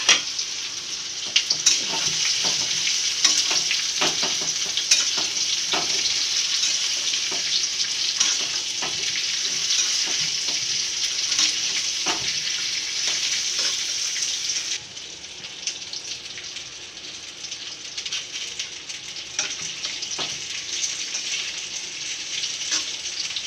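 Whole spices hit hot oil in a pan and sizzle loudly and steadily, a continuous close frying hiss with small clinks, no talk.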